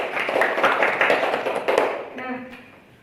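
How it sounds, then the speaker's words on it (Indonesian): Classroom applause for a student, a dense spatter of many hands clapping at close range, fading out after about two seconds as a voice starts talking. "Berikan aplaus untuk Dinia."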